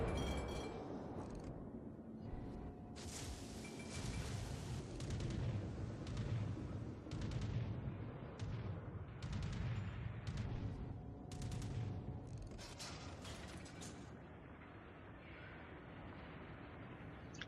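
Warship cannon fire in the naval video game World of Warships, from the heavy cruiser Atago in a ranked battle: repeated booming volleys and distant explosions rumble across the stretch, loud and close, with no speech.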